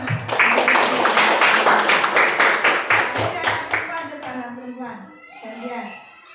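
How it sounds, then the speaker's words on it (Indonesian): Children in a primary-school classroom clap together, a brisk run of sharp, evenly spaced claps that fills the first four seconds and then breaks off, after which a voice speaks alone. "Coba ada lagi yang tahu anak perempuan, diberi tepuk tangan ya."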